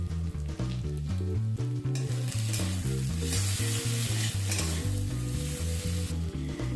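Pomfret and potato pieces fry in ghee in a pan, giving off a steady, close sizzle that holds for several seconds beneath loud background music.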